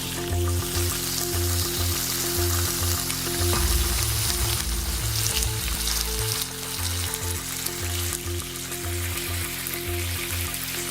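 Ingredients stir-fried in beef fat oil in a hot pan, a loud steady sizzle with scraping stirring strokes throughout and no talk.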